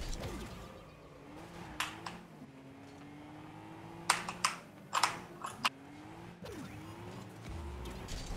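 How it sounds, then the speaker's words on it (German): Hard, rapid keystrokes on a computer keyboard during a Rocket League match, coming in sharp clusters of clicks and clacks over a low, steady background hum, with no voices. "Irgendwann macht der Yannick noch seine Tastatur kaputt, ey"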